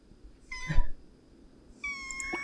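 A cat in The Sims 4 meows twice, short plaintive calls close by with a quiet pause between them, against a faint game background.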